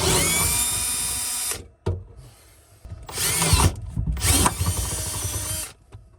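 A power drill bores a pilot hole in bursts, whining loudly for about a second and a half, pausing, then running again in two more close, harsh spells.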